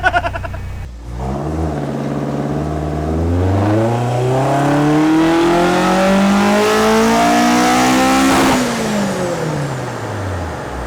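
Toyota AE86 engine revving on a dyno in a single long pull, the tone climbing steadily for several seconds and then dropping off sharply near the end, loud and close with no talk.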